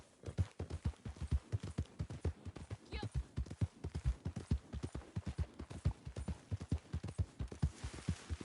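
Steady clip-clop of a horse's hooves in a video game, a fast regular rhythm of close, distinct thuds continuing throughout, with a brief whinny-like sound partway through.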